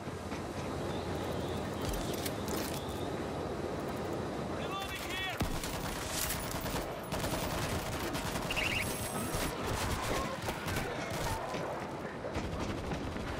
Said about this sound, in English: We have ourselves an auto turret.